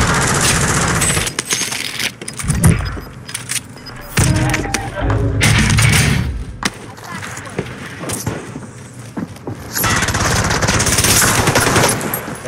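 Ray gun fire and chaotic combat in a Call of Duty zombies match, loud bursts and thuds piling up in rapid, dense volleys with brief lulls between, filling the whole stretch.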